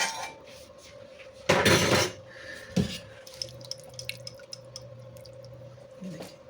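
Syrup is swirled around a pot to rinse out residue while making traditional pumpkin halwa at home, producing a brief sloshing and scraping burst followed by faint drips and clinks against a low background hum.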